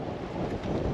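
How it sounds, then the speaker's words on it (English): Wind from Hurricane Nicole buffets the microphone with a steady, rough low rumble and hiss for a moment, with no other sounds. "it's windy out here"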